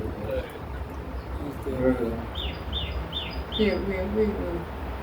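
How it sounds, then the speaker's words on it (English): Several short, high bird chirps sound outdoors, faint and somewhat distant, repeated in small groups over a low background hum while someone talks. "I guess a bird."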